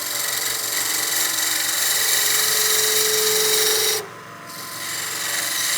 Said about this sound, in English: we'll be using the skew as a peel cut to turn that smaller step